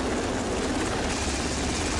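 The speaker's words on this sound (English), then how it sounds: "The helicopter is a significant addition to the combat capabilities of a modern destroyer." Anti-submarine helicopter operating from a modern destroyer's landing pad, its rotor and engine giving a loud, continuous beating roar throughout with no voices.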